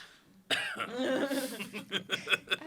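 Person coughing in a burst of repeated rough coughs, close and fairly loud, with a throat-clearing quality.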